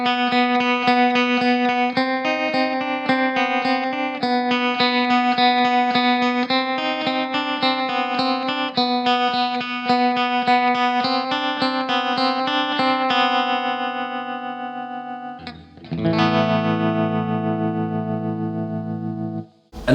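An electric guitar plays a single-note lead line through a clean amp with pedals, a very subtle modulation adding gentle shimmer; steady melodic notes for about thirteen seconds, then a ringing pause and a sustained struck chord, loud and close, no talk.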